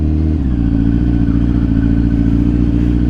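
A 2008–2010 Kawasaki ZX10R motorcycle rolls up at low speed to park near a shop entrance, its engine idling with a steady, close, loud rumble throughout and slight throttle changes near the start.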